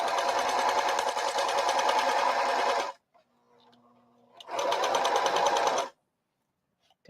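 A domestic sewing machine stitching a tote bag, running loud and close in two bursts of about three seconds each with a near-silent pause between them.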